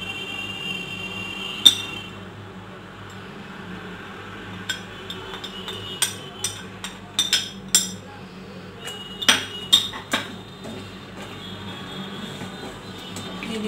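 A spoon clinks and scrapes against a pan while methi matar malai gravy is stirred, heard as scattered light metallic taps over a steady low kitchen hum, faint and irregular, with no talking.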